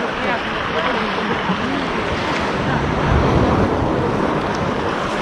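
Gentle sea waves wash onto a pebbly beach at Lazarevskoye on a summer morning, a continuous close rush of surf mixed with wind buffeting the microphone, loud and unbroken throughout.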